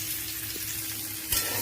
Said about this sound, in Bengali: একটু হালকা করে ভাজা হয়ে যাক।